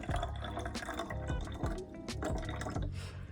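Concentrated nutrient mixture is poured into a bottle for a reservoir, giving a quiet, continuous liquid trickle with small gurgles and drips throughout.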